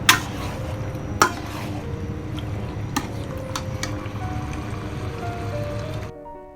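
White chicken masala is stirred and roasted in a pan with a steady low bubbling sizzle, sharp clinks of a spoon against the pan at intervals, close by, with no voices.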